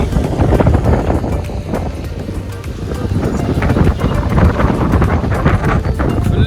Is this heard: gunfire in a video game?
no